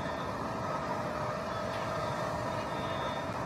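Blue Origin's New Shepard rocket on mission NS-31, its BE-3 engine back at full throttle after passing max Q: a steady, even broadband roar with no breaks, moderately faint and continuous.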